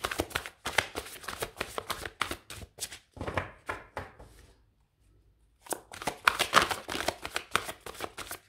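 Tarot cards are shuffled in quick, crisp riffling bursts, then go briefly quiet before more rapid flicks and slaps as a card is drawn, close and fairly soft.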